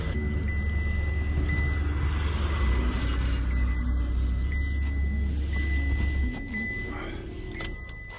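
An Opel Astra engine idles as the car is loaded onto a car-transporter truck at a dealership, giving a steady low rumble that holds evenly and then drops off sharply near the end.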